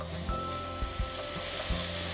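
Carrots frying in a pan with cardamom and bay leaf, a steady close sizzle broken by several scraping stirs of a spatula.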